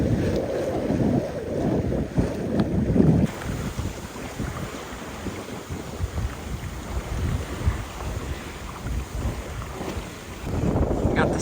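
A sailboat with its mainsail out beats into the wind on a trip between islands, heavy wind buffeting the microphone over a steady rush of water against the hull, loud and continuous throughout.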